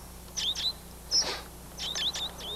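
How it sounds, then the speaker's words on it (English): Starlings chirping in a vineyard, a few quick bursts of high, whistled calls and sharp chirps against quiet background hum, moderately close. "There's a big mob of starlings gone in there"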